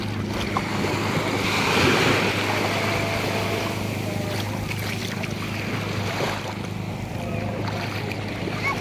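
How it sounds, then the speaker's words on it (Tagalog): A non-motorized wooden bangka boat sits on open water amid continuous surf and wind buffeting the microphone, with waves washing close by at a steady level. "Kaya ito po yung dadalhin kong bangka."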